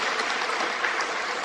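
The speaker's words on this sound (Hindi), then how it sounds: "इसलिए एक बार जोरदार तालियां" Audience applause at a felicitation ceremony held at an institute: dense, steady clapping from a crowd, continuous and fairly loud throughout with no pauses.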